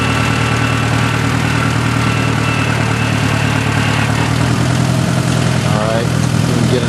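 A 1965 Case 430 tractor's engine runs loud and close at a steady, rumbling idle-like pace while the machine backs up, with a slight shift in tone near the end.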